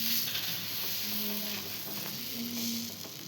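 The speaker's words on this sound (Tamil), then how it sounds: "தோசைக்கல்லில் தோசை போட்டுக்கலாம்." Dosa batter sizzles on a hot griddle for a healthy homemade dosa, a soft, steady frying hiss with faint crackles throughout, fairly quiet and with no voices.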